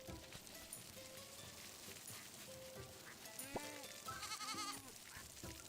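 Goat bleating in a farming video game, a few short wavering cries over steady rain-like patter, fairly faint in the mix.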